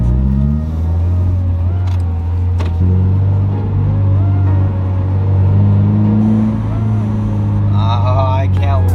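A widebody Toyota 86 engine revs with the clutch held in, climbing and falling in a steady, loud near drone, with a voice talking over it at times.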